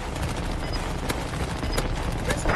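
Sustained automatic gunfire in a video game as a whole magazine is emptied, rapid shots rattling continuously at moderate loudness with a few sharper cracks standing out.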